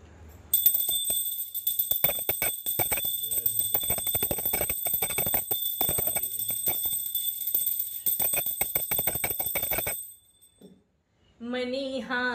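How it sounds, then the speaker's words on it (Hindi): A small hand bell rung steadily during a home Janmashtami puja, a continuous bright metallic ringing for about ten seconds, then a brief pause before singing voices begin. "घंटी बजाइए पहले।"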